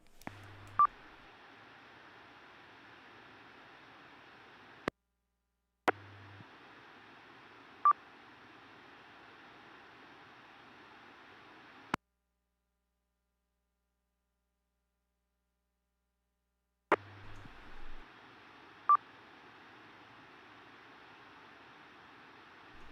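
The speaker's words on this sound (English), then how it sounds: "There's a lot of beeps on the 448-625-77 isn't there?" Short electronic beeps cut in at intervals over a steady hiss of static, with abrupt dropouts to silence between bursts, on an amateur radio repeater.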